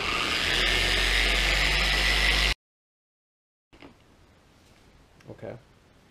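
A car polishing machine spreading compound on paint whirs loudly and steadily for a couple of seconds, then cuts off, leaving silence and then faint, brief sounds that may be a voice.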